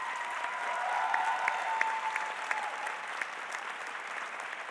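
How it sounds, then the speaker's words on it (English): Applause from a large crowd at a spring School of Education commencement rolls on steadily, with a few sharper individual claps and faint cheers, heard from some distance in a big venue. "let's give them a round of applause for what they've done for you to be here today"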